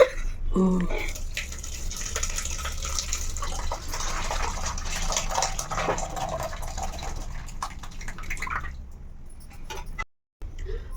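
Water poured over a cloth-lined strainer while draining homemade paneer, a steady splashing, gushing flow close by that runs almost continuously before cutting off briefly near the end.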